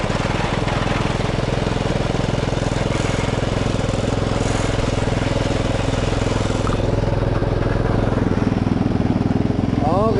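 A modified lawn tractor engine runs loudly and continuously in first gear with a rough, buzzing drone, recorded up close. Voices are faint beneath it.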